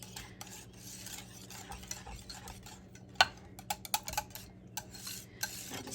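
Sugar-free butterscotch pudding mix is whisked into cold milk, a steady scraping stir with soft swishing strokes and several sharp clinks of the utensil against the bowl, close and without talk.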